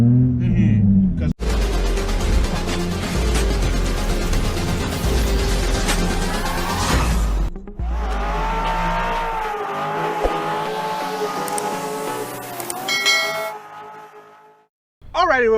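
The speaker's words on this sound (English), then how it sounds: "Exhaust combination that you did has a nice tone to it." A 2008 Honda Accord EX-L with a custom exhaust setup revs hard, the engine note climbing and falling in loud sweeping pulls, cutting out briefly before another rising rev and fading to quiet at the end.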